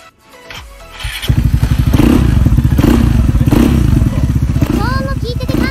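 A Vespa GTS250ie scooter fitted with a new muffler starts up and settles into a loud, steady, throbbing exhaust idle close to the microphone, with a voice speaking briefly near the end.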